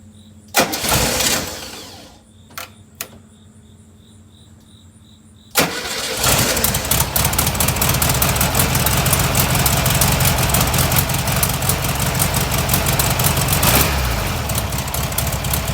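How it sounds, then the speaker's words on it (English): A 1973 VW Thing's carbureted engine cold-starts after a few faint clicks and a short crank, then settles into a steady, loud, rough idle that runs on alone. "See how it does with the cold start here with the carburetor."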